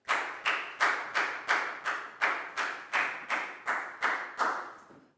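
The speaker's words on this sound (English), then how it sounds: "High five and a big round of applause for Prel" Steady, evenly spaced rhythmic clapping of about a dozen beats fills a classroom, close and loud, with no talking, as a Year 4 class applauds a student.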